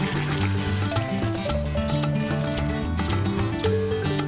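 Hot water poured into sizzling curry in a pan, a steady loud frying hiss with watery splashing, no talking.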